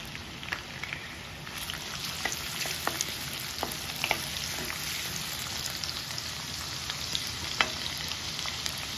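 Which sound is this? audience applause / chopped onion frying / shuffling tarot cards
chopped onion frying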